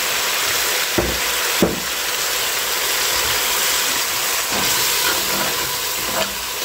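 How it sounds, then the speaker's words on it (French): A hot pan with garlic deglazed with white wine, a loud continuous steamy sizzle and hiss with a few sharp pops and clinks, no talk. "Puis maintenant je vais déglacer au vin blanc."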